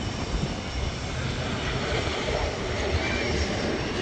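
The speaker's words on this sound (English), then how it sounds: "Coming around that corner, any second now, should be the first of today's A350 takeoffs." A Singapore Airlines Airbus A350 takes off at Manchester Airport, a steady loud roar of jet engines holding throughout with no other sounds.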